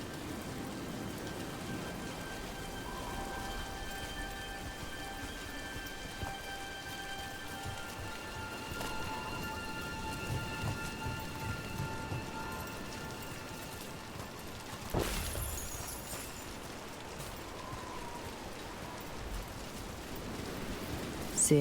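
Steady rain in the video game Dragon Age: The Veilguard hisses continuously at moderate volume, with a faint low rumble and a brief sharper knock partway through.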